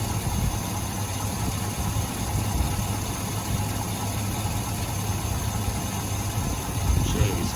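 A car engine with no power and poor running idles roughly, a steady close low rumble with uneven pulsing and a slight swell near the end, with no voices.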